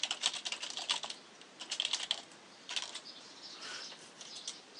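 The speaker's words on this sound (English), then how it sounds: "when you want to edit, you just click the pencil, and you start typing in" Quick bursts of keystrokes on a computer keyboard while editing a page in Google Sites, close and clear, clattering in uneven runs with short pauses between them.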